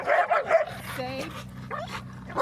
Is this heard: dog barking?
yes